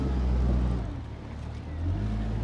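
Outboard Mercury motorboat engine in gear under smooth, steady throttle, pushing the boat up onto a trailer; a continuous low engine drone with slight rise and dip in loudness, close by and alone.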